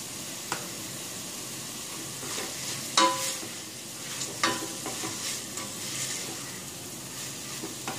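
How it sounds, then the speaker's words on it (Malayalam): Onion and half a cup of coriander leaves sauté in a pan for channa biryani, a quiet continuous sizzle with occasional scraping stirs and light utensil taps, close and unaccompanied by talk. "എല്ലാം കൂടെ നല്ലപോലെ വഴറ്റണം സവാള നല്ല ഗോൾഡൻ ബ്രൗൺ ആയി നല്ലപോലെ വഴറ്റി"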